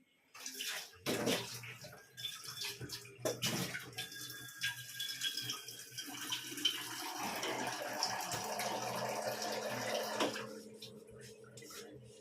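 Water poured into a pot for two cups of tea, a steady splashing, gurgling stream running close for several seconds with some clatter of utensils at the start.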